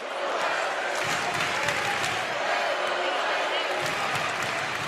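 A college basketball arena crowd cheers and roars continuously during a conference tournament game, a dense, loud wash of voices and applause with a commentator talking over it.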